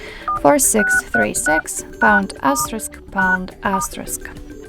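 Keypad tones sound on a Motorola Moto G22 smartphone as a secret code is typed, a quick series of separate beeps, each short and distinct, spaced in an uneven rhythm.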